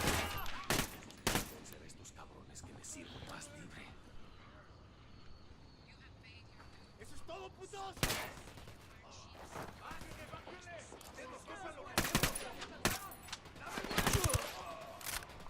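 Gunfire in Ghost Recon Wildlands: scattered sharp shots and short bursts, loud and close, some in quick clusters near the start and again later, with a voice talking in between.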